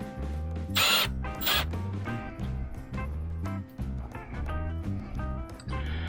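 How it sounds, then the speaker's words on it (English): Screws are driven into a plastic stone crab trap, giving close rapid ratcheting clicks in repeated bursts with mechanical rattles and a couple of sharper scraping accents. "maybe tighten them with a traditional plain old screwdriver"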